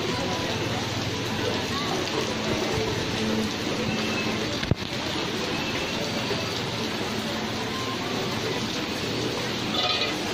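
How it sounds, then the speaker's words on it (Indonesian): Steady rain pattering on a surface at Martapura market, a dense continuous hiss throughout with one brief sharp knock midway. "Masih hujan"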